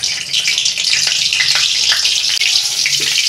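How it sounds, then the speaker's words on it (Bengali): Dried red chillies tempering in hot oil in a wok (karai) give a loud, steady, hissing sizzle throughout, with a close, constant crackle and no talking. "ওই কড়াতে আমি তেল দিচ্ছি, শুকনো লঙ্কা ফোড়নে দিচ্ছি,"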